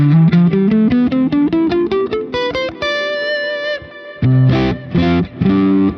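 An electric guitar with distortion plays a quick run of stepwise notes in D Dorian mode, then sustains a chord and strums a few loud bursts.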